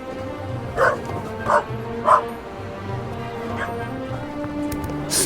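Dog barks in the video game The Raven Remastered on Xbox One: three clear barks about half a second apart, then a fainter fourth, over a steady low background hum and rain-like ambience.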